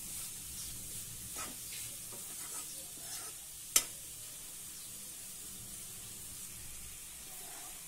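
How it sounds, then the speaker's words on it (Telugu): Carrot halwa is stirred in a pan over a low flame, giving a soft, continuous sizzle with faint scraping strokes and one sharp knock of the utensil against the pan. "కొద్దిగా ఇలా లో ఫ్లేమ్ లో మధ్య మధ్యలో కలుపుకుంటూ ఉండాలి, లేదంటే అడుగు పట్టేస్తుంది."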